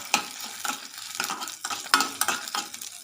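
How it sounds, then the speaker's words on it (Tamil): Chana dal, dried red chillies, ginger and garlic being sautéed in a pan, with steady stirring strokes scraping through the mix every half second or so over a soft sizzle, close and moderately loud, no voices. "ஒரு டீஸ்பூன் கடலைப்பருப்பு காரத்துக்கு தகுந்த மாதிரி வரமிளகாய் ரெண்டு துண்டு இஞ்சி அஞ்சு பல் பூண்டு சேர்த்து நல்லா வதக்கிக்கோங்க"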